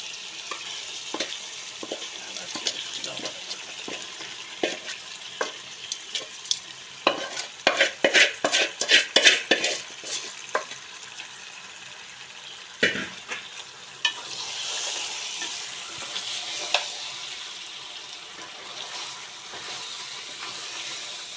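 Fish pieces fry in a pan with curry leaves and coriander, stirred steadily. A continuous sizzle runs under scraping clicks that build into a dense cluster of strokes midway, then ease into a softer hiss.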